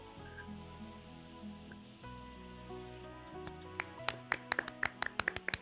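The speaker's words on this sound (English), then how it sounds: "That was golf applause." Golf applause: quiet, scattered claps that grow into a brief ripple of sharp hand claps toward the end, set over a soft, steady background tone.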